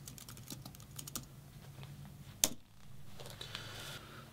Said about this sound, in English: let's actually do this and type in make all